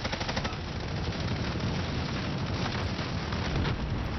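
Sustained automatic gunfire in an Apex Legends Plunder battle royale match, shooting down a target overhead; a dense, continuous crackling burst of rapid shots at steady loudness throughout.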